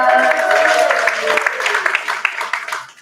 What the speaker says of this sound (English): Corey, another round of applause